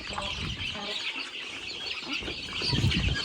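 Chickens cluck repeatedly on a farm, a steady run of close, moderately loud calls over a low, rumbling background.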